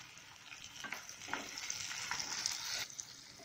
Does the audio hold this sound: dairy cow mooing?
no